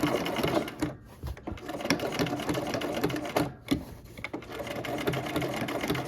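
A sewing machine stitches around flower petals in a run of steady, fast mechanical whirring and clattering, loud and close, with brief pauses as the fabric is turned.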